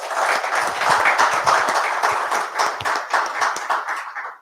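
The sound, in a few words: audience applause for the panelists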